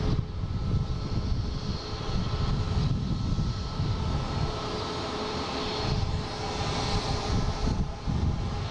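Jet airliner departing Boston Logan toward Frankfurt, climbing into the clouds: a steady, fairly distant engine roar with broad hiss, holding level across the stretch without talk.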